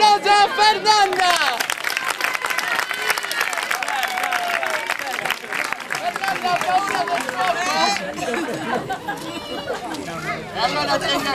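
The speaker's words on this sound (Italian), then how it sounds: "Un applauso a Fernanda!" At an afternoon juggling show during the San Pio festival in Zerfaliu, an audience applauds and cheers for a volunteer named Fernanda, with dense clapping mixed with crowd chatter and voices throughout.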